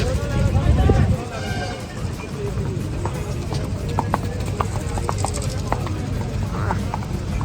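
Horse hooves clip-clop at a crowded horse and livestock fair in Nabha, Punjab, the scattered knocks partly buried under steady crowd chatter and people talking nearby.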